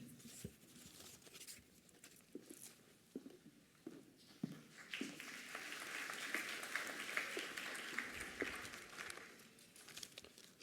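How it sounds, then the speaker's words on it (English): Scattered, fairly distant clapping from a convocation audience rises into a fuller round of applause in the middle, then thins out again. "Another round of applause for Ms. China King."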